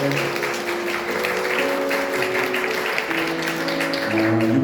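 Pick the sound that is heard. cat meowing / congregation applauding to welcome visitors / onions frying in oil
congregation applauding to welcome visitors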